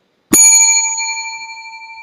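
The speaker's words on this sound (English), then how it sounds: "So the bell indicates new choice." A single bright bell ding rings out once, loud and alone, to signal a new choice in an improv game, its clear tone ringing and slowly fading.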